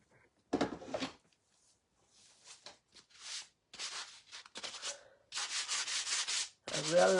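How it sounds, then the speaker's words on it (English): Light sanding on a wooden chunky cross, a series of short rasping strokes of varying length with quiet gaps, close and alone with no talking. "A real light sanding."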